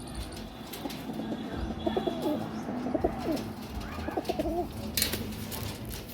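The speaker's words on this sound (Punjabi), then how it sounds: "ਆਪਣੇ ਕਬੂਤਰ ਸੇਲ ਆ ਜੀ 6 ਕਬੂਤਰ ਆ ਤੇ 2 ਕਬੂਤਰੀਆਂ" A group of pigeons, six males and two females kept for sale, coo softly in a rolling, repeated pattern against steady background noise, with a few faint chirps and brief wing flutters.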